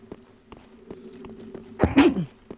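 A single sharp sneeze bursts out close by near the end, following a stretch of quiet room sound with faint taps while players talk over a Dark Souls III gaming session.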